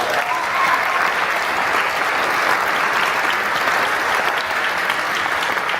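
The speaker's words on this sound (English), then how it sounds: "If we can give them a round of applause." A conference audience applauding at a keynote address, a loud, even wash of clapping from many hands sustained throughout without any voices.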